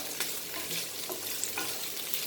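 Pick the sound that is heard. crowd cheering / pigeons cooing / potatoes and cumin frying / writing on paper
potatoes and cumin frying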